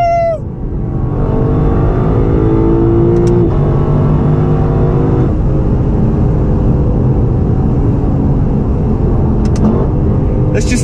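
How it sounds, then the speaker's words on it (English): A 2018 Lexus LC500 V8 engine and exhaust roar loudly throughout, climbing through revs and shifting under heavy throttle, steady and close for the whole stretch with only a brief voice at the start. "Let's just take a moment to enjoy that V8 symphony."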